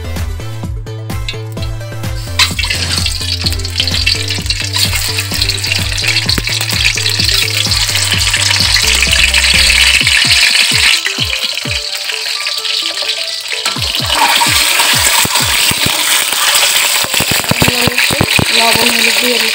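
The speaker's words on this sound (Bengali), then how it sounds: "সবার আগে ডিমগুলো ফুটিয়ে নিচ্ছি।" Eggs frying in a little oil in a pan, a loud steady sizzle running throughout, with a stretch of low hum and music-like tones early on and scraping clicks of stirring midway.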